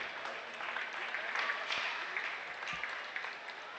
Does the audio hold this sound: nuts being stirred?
no